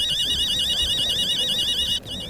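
Several electronic alarms blare at once in a video game, a steady warbling siren tone repeating in fast cycles with layered higher beeps, loud and continuous before cutting off abruptly near the end, over faint background game noise.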